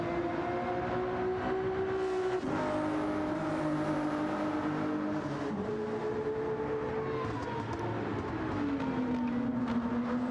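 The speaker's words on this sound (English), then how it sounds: "It's so fantastic to hear that rotary engine scream in the front." A rotary-engined race car screams in Gran Turismo 7, its high engine note rising and falling through gear changes and corners, steady and fairly loud with no talking.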